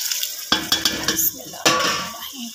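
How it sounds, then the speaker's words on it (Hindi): Masala and dal frying in a pan, with a spoon stirring and scraping through them in a few quick strokes over a steady close sizzle; no talking. "मैं इसमें दाल डालूँगी तो थोड़ा सा और भून लूँ"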